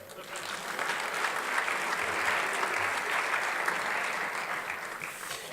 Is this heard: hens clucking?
no